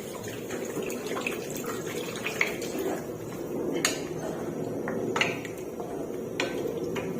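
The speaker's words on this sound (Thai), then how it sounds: "เติมน้ำลงให้ท่วมไก่เลยค่ะ" Steady gushing water pours into a pot over chicken pieces, with occasional light metallic clinks of cookware over the continuous splashing flow.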